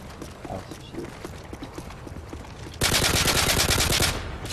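Rapid automatic gunfire from a shooter video game bursts in loud and dense near the end, after a stretch of quieter game sounds and chatter, then eases slightly before stopping.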